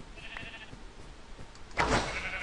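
Sheep in the Minecraft video game bleat in a short quiet cry, followed by a louder, noisier burst near the end; no one speaks.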